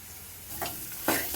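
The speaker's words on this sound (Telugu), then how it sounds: "ఇప్పుడైతే నూనె వేడెక్కింది. ఆవాలు, జీలకర్ర, ఉల్లిగడ్డ, పచ్చిమిర్చి" Mustard seeds, cumin, onion and green chili hit hot oil, giving two short, faint bursts of sizzling a half second apart over a quiet background.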